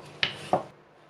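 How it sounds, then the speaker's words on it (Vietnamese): Two quick, crisp knife chops through stacked layers of rolled rice-flour dough on a cutting board, close and distinct, then quiet. "Sau đó mình chồng lên nhau, mình cắt cho nó lẹ."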